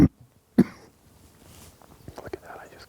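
Two short, close coughs in quick succession, followed by quiet rustling and soft breathy sounds.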